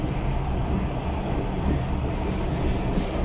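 Train wheels clattering steadily on the rails, heard from inside a moving passenger car as a continuous loud rumble with faint rhythmic clicks and a thin high whine above.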